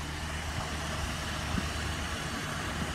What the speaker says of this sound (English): you turn the ignition off but the engine still running